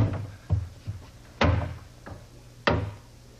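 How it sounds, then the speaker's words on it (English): Doors are fitted onto an oak cabinet in a workshop, with a few close wooden knocks and thuds, two heavier bangs standing out among lighter taps. "Installing the doors is a snap."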